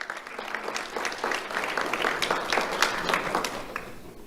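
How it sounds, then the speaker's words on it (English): An audience applauding an award winner at a sheriff's office awards ceremony, a steady wash of many clapping hands at moderate volume that swells in the middle and fades out at the end. "Let's have a round of applause for Haley."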